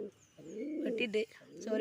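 A pigeon coos close by in a few soft, throaty, rolling calls with brief pauses between them.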